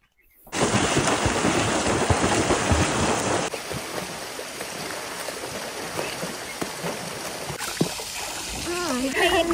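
Splashing and playing in a small resort swimming pool near Kolhapur: continuous close water churning and slapping, with voices calling out over it.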